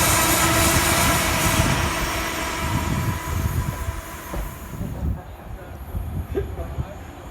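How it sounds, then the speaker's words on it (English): An LNWR Class 350 electric passenger train, formed of a four-car unit at the front, passes on the down track of the West Coast Main Line, a loud close rumble and rush that fades away, with some talk underneath. "An LNWR Class 350 train, this time formed of a Class 350 train 4 at the front, passes on the down track."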